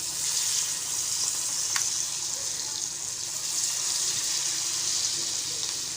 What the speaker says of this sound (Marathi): हे असे गोळे करायचे आणि गरम झालेलं आहे तेल सोडायचे